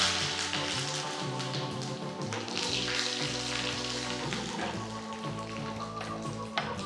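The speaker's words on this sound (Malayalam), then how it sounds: "ചൂടായ എണ്ണയിലേക്ക് ഒരു 1/4 ടീസ്പൂൺ കടുക് ചേർക്കാം." Mustard seeds sputter and crackle in hot coconut oil for a Malabar chicken curry tempering, a steady close sizzle with dense rapid pops and a faint sharp tap near the end.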